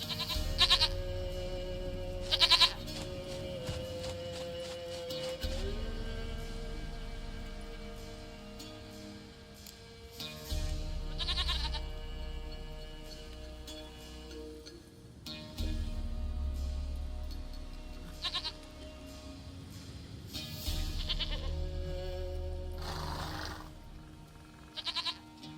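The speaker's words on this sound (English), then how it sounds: "Goat of mine, dearest, sweetest goat." Goat bleats ring out in the Witcher 3 video game, several short cries scattered over a continuous bed of game music and ambience.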